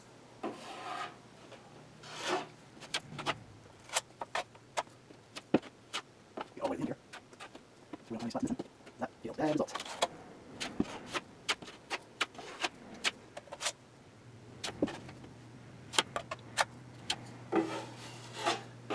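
A knife spreads drywall joint compound over tape on a sheetrock butt joint, making repeated close scraping and rasping strokes in an uneven rhythm, with occasional talk in between.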